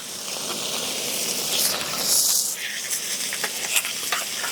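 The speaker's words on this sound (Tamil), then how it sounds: "அலசி வச்ச கொத்தமல்லியும் புதினாவும் போட்டுக்கலாம். இதுவுமே கொஞ்சம் வதக்கிக்கணும்." Fresh coriander and mint leaves sauté in an oily pan, giving a steady, soft sizzling hiss that swells briefly, with faint stirring scrapes and no voices.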